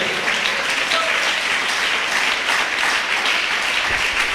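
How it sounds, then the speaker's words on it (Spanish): Church congregation clapping for a pastor's sermon, a steady wash of many hands applauding at moderate loudness, continuous and without talk. "¿Quieres aplaudirlo? Apláudelo."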